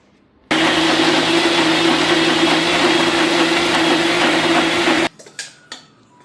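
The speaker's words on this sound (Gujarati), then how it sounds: "આપણે મિક્સરમાં મૂકીને હવે એને ગ્રાઇન્ડ કરી દઈશું" An electric mixer grinder crushes soaked moong dal, with green chillies, into dal vada batter. It roars in loudly at once, runs as a steady high whir for about four and a half seconds, then cuts off, leaving a few light clicks and knocks.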